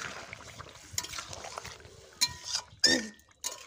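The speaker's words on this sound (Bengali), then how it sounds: "দিয়ে ভালো করে নেড়ে চেড়ে নিচ্ছি" Fried lata fish being stirred through a bubbling curry in a pan, with soft wet scraping and sloshing and a few sharper clinks of the spoon against the pan.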